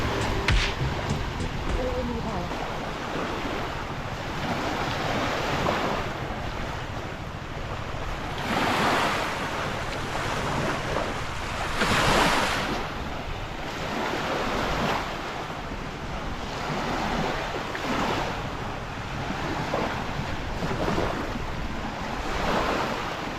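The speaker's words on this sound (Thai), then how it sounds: "แล้วตอนนี้เราจะให้เพื่อนๆได้ฟังเสียงคลื่น ของทะเลหัวหินกันค่ะ" Sea waves rolling onto the beach at Hua Hin in Thailand, a steady broadband wash with swells rising around the middle, mixed with wind buffeting the microphone and no talk.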